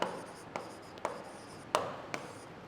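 Chalk or marker writing on a board while a diagram is drawn, heard as a series of short scratchy strokes and taps spaced about half a second apart, close and moderately loud with no talking.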